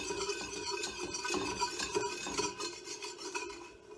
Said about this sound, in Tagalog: Then, you just constantly stir it.